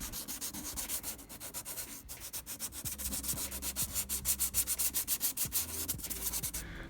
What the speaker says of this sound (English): So I just started sanding with the number 1